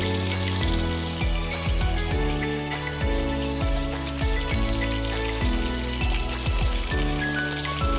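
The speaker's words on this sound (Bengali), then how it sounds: "মাছ ভাজা হয়ে গেছে, মাছগুলো এবার তুলে নেব" Pabda fish fry in hot oil in a kadai for a Bengali tel jhal, a steady dense sizzle and crackle holding at the same level throughout, with a low rhythmic knocking pattern under it and no voices.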